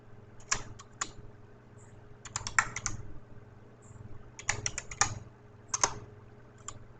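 Fingers type a command on a computer keyboard in short bursts of rapid, close key clicks separated by brief pauses, over a low steady hum.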